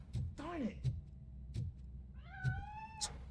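Cat meowing in the video game Robocop: Rogue City, a few short meows near and clear, one with a sliding pitch, over low background thumps.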